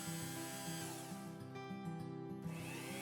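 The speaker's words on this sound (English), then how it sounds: "Axle spins with the Dremel, so it takes the whole edge off in one go." A Dremel rotary tool grinds the edge off a spinning axle on a Matchbox 66C Greyhound bus toy, a steady high whine with a continuous grinding buzz that holds for a few seconds.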